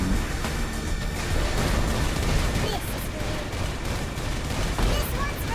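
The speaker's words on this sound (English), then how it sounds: "These guns are so loud." Dense, continuous gunfire roars through Saints Row Re-elected, a loud wall of rapid overlapping shots and blasts with no clear breaks across the whole stretch.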